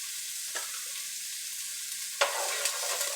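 Minced garlic fries in a pan, giving a steady, soft sizzle with a couple of brief stirring scrapes, close and alone without any talk.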